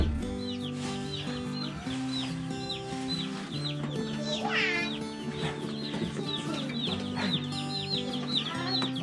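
Meat chickens clucking steadily throughout, a dense overlapping chorus of many birds close by, with a low steady hum underneath.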